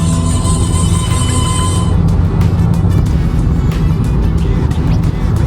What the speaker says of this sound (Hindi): देखो गाड़ी अगर आप अभी देखोगे 110 पे चल रही है